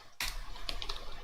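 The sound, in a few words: typing on a computer keyboard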